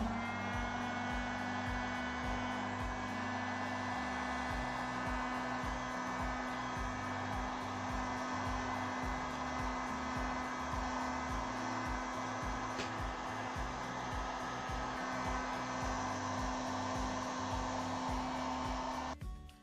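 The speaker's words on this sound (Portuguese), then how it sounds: "Vou secar aqui, mostrar pra vocês secando." A hair dryer blows steadily and close at hand to dry the finish on a handmade craft piece, a continuous whirring hum with a strong low drone that holds unchanged for about twenty seconds.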